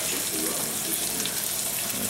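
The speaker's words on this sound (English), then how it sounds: "we're going to take our diced tomatoes, we're going to drain them." Canned diced tomatoes are drained and the liquid pours in a steady close splashing trickle of water-like flow that lasts throughout, with no talk.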